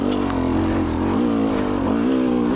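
A 2019 300 TPI two-stroke dirt bike engine lugs at low revs at high altitude, a close, loud, uneven burbling drone whose pitch wavers up and down continuously without any talk.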